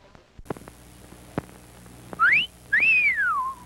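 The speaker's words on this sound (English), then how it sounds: "the hot dogs at our concession stand do rate an appreciative whistle" Two rising-and-falling appreciative wolf whistles, loud and close, aimed at county fair hot dogs at a concession stand, following a few sharp clicks and thumps.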